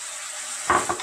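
Chopped cashew nuts frying in dissolved jaggery for Odia manda pitha give a low, steady sizzle, broken near the end by a couple of brief louder stirring scrapes close by.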